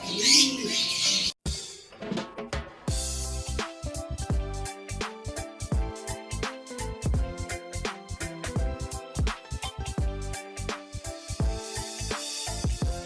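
Racing pigeons coo and call at a loft, with repeated short clicks and flutters in a rapid irregular rhythm, close and clear over a quiet background.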